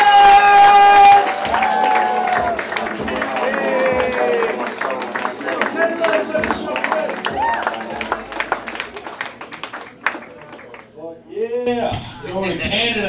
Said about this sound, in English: Cafe, start clapping your hands right now.